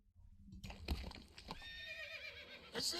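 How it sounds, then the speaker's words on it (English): A horse neighs in an animated movie, Teenage Mutant Ninja Turtles: Mutant Mayhem, with a loud whinny against a busy soundtrack and a sharp burst near the end. "That's it? One little horse."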